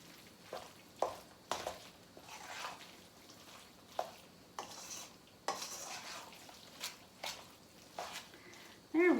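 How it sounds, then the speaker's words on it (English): A spoon stirs spanakopita filling in a bowl, giving scattered soft scrapes and clinks at irregular intervals with a quiet background and a louder knock at the end. "Stir that up."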